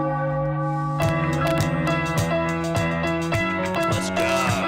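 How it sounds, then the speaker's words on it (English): A big bell rings out to celebrate a Philadelphia 76ers win, its strikes following one another steadily, each tone sustaining and overlapping the last in a loud, resonant peal with no talk. "Ring the bell, baby!"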